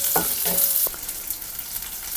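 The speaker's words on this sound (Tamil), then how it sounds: "இதுலேயே அந்த பச்சை மிளகாவையும் போட்டுட்டு நல்லா வணக்கிடலாம்." Small onions and green chillies sauté in a hot pan, a constant bright sizzle joined by a few clinks and scrapes of stirring, close and unobscured.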